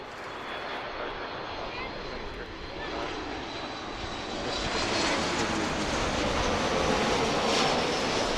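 A Boeing 737 Max jet takes off near Philadelphia airport, a broad roaring engine rumble that swells louder partway through and holds steady, with faint radio chatter mixed in.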